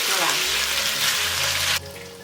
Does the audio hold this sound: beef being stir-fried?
yes